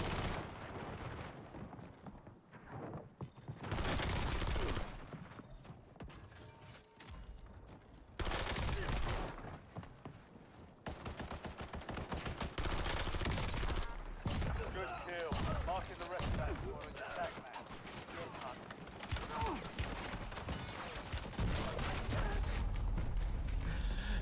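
Gunfire rattles through a Call of Duty Warzone Resurgence match, with loud bursts of automatic fire and sharp shots in several clusters over about twenty-four seconds, some close and punchy, others more distant, with quieter gaps between and players talking at times.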